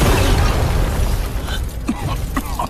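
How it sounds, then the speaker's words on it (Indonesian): A medicine furnace exploding in an animated fantasy scene, a loud close burst that quickly decays into crackling debris and scattered sharp hits. "sehingga membuat tungku obat meledak"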